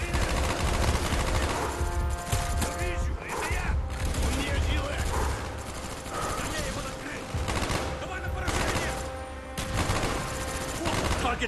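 Machine-gun bursts and scattered gunfire from the video game Call of Duty Black Ops rattle almost nonstop, loud and dense, with voices talking intermittently over the shooting.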